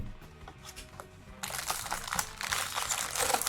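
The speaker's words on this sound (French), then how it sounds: "Les boosters, hop, je les sors." Plastic wrappers of One Piece trading card booster packs crinkle and rustle close by, quieter at first and then a loud, dense stretch of continuous crinkling.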